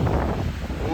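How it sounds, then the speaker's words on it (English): Wind buffets an iPhone 15 microphone on a city street walk between Eglinton and Dufferin and Bathurst, a loud, constant low rumble of gusting noise filling the whole brief moment. "I'm sorry if you're hearing the wind right now."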